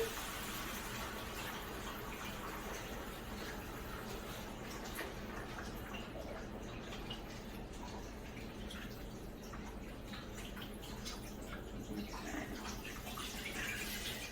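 Broth poured into a cooking pot while making paella, a steady continuous liquid pour with trickling and splashing, fairly quiet and unbroken, with no talking.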